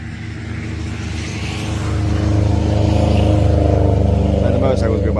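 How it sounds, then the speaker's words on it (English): Motorcycles pass along a road, their engine rumble swelling louder midway as they approach, while someone talks close by. "let the motorcycles go by."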